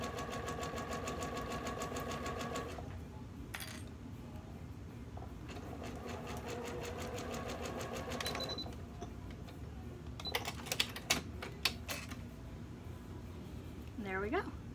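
Sewing machine running a zigzag stitch along fold over elastic, a steady close mechanical whir with rapid needle rhythm that stops partway, followed by clicks and handling noises.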